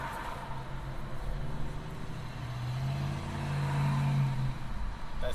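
A Lexus IS F V8 with long-tube headers, an exhaust cutout and an aftermarket intake revs with the cutout valves open, a deep engine note that climbs and swells louder toward the end before easing off.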